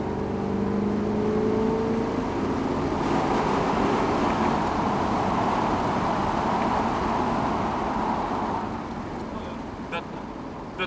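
Chevrolet Corvette C3 Stingray V8 driving into a small tunnel, a loud steady engine drone with road noise that holds for most of the run and then drops a little near the end.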